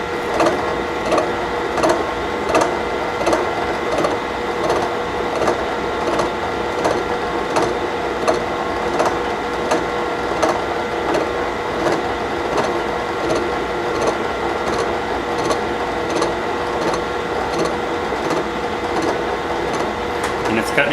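A gear-cutting machine mills teeth into a metal gear blank, making a steady, continuous mechanical whir with repeating rhythmic ticks from the cutter, loud and close, with a voice talking over it.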